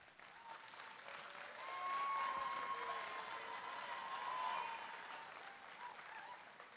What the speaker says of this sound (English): please give your warmest applause.